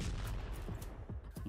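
A drone strike explodes among soldiers in war footage from the Russia–Ukraine conflict, a rough, crackling burst of noise that rumbles on in uneven bursts, fairly faint and without speech.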